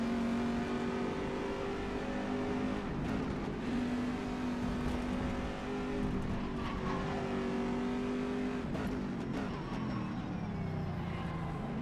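A GTE race car engine laps Magny-Cours in the rFactor 2 racing game, its steady high drone holding throughout with shifting revs and brief tire noise, loud and continuous with no talk.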